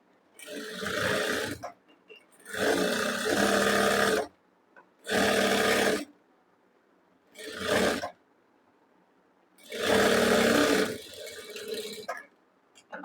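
A sewing machine stitches a folded kurti sleeve hem in several separate runs. Each loud mechanical whirring burst lasts a second or two, with short silent pauses between them, close and without voices.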